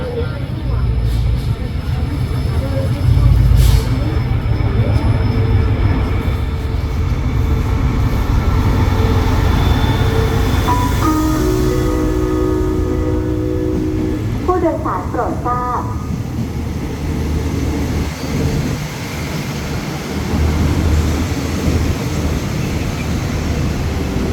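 Thai rapid trains 170 and 255 pull into Ban Pong station on double track, heard as a loud, steady rumble with squealing brakes and clanking partway through, and people talking over it.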